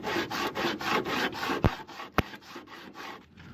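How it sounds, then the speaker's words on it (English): Hand sanding on the metal trunk corner of a 1955 Chevy using a socket: a steady series of rough, rasping back-and-forth strokes, close up, with a couple of sharp clicks partway through. "Sanding. This side's a little harder than the other side actually"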